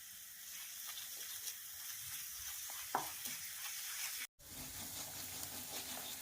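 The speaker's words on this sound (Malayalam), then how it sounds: "അതുവരെ ലോ ഫ്ലെയിമിലിട്ട് ഇങ്ങനെ നന്നായിട്ടത് വറ്റി വരട്ടെ." A spice paste fries on a low flame for a paneer and cream dish, making a faint, steady sizzle with an occasional soft scrape of stirring and a brief break.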